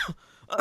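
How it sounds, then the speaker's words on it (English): A single short cough or throat-clear from a podcast host, close to the mic, with a quick rough burst at the end of a brief pause. "Refreshing to hear you cough on the podcast"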